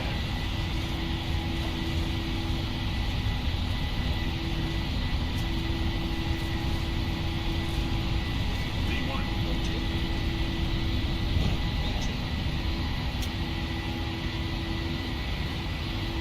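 Simulated airliner take-off roll in the Prepar3d flight simulator, a PMDG jet departing Minneapolis: a steady, loud engine roar and rumble held evenly throughout, with no talk over it.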